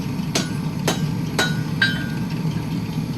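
Hammer tapping a hot steel Bowie knife blade on an anvil to bring the point down, four distinct ringing strikes spaced evenly, close and clear over a low steady hum.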